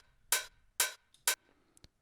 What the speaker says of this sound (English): Then I've got my main 909 right here.